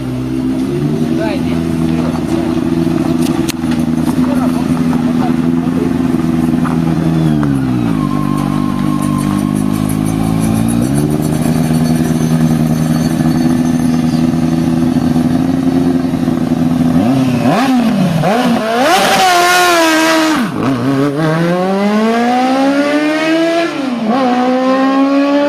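A Zaporozhets car fitted with a Yamaha R1 motorcycle engine revs loud and high, its pitch climbing and dropping through gear changes as it drives hard and corners, with excited talk and brief tire noise over the continuous engine scream.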